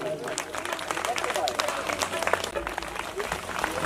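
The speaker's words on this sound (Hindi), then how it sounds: "एक बार जोरदार ताली बजाकर सम्मान करेंगे।" Loud, steady applause from a seated audience at a state-level Manas Gaan singing gathering in Bhansoj, near Raipur, dense clapping filling the whole stretch with voices murmuring underneath.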